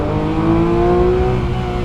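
A Porsche 992.2 GT3 Touring engine revving, a loud, close, steady high-pitched mechanical howl with smoothly shifting tone, heard alone.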